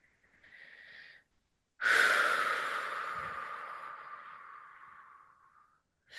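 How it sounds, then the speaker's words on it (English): A slow breath drawn in softly, followed by a longer, fuller exhale that fades gradually, close and quiet with no talk. "Let's take a moment to feel into the breath."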